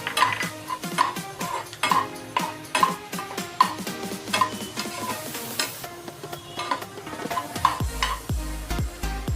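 Thick kalakand sweet mixture stirred in a pan, a steady rhythmic run of spoon scrapes and clinks against the metal, close and fairly loud, with a light sizzle underneath and no talking.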